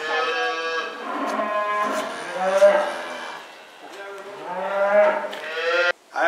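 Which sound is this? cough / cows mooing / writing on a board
cows mooing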